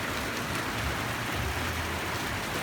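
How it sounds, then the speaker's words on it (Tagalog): Steady rain falling in the Philippines, heard by a window, an even hiss of drops that continues throughout with a faint low rumble beneath and no voices. "Kasi pre, umuulan no."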